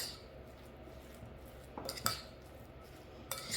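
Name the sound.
utensil mixing a cheese mixture in a bowl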